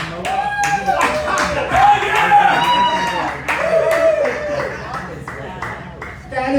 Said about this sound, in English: That is the best applause I've ever heard in this place